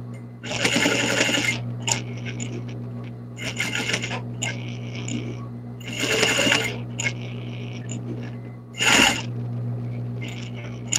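A sewing machine stitches the tail onto a felt rabbit in loud, close bursts of rapid mechanical clatter, four main runs separated by short pauses and a steady low hum.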